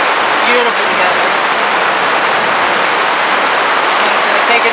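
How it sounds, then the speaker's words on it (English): Heavy rain pours steadily outdoors, a dense, even hiss of drops that fills the whole stretch without letting up. "Yup, it's raining harder again."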